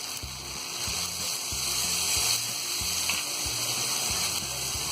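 Lemon juice goes into achari bhindi, okra cooked with tomatoes in a pan, which sizzles in a steady bubbling hiss under a soft, rhythmic low pulse.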